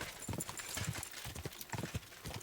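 Horse hooves clip-clop in steady rhythmic strikes in Kingdom Come: Deliverance II, the medieval open-world game, close and moderately loud with a faint ambient bed behind them.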